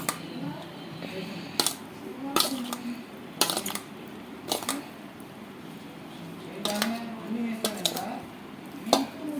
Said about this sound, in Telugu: ఇది కూడా చింతపండు కూడా ముక్కలకు పట్టేలాగా మనం చక్కగా కలిపేసేసుకుందాము